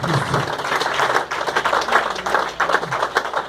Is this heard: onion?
no